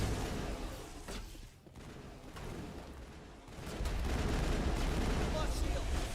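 Rocket fire in Mass Effect, a string of booming launches and impacts rising to a sustained rumbling barrage under heavy combat noise, with talk mixed in faintly.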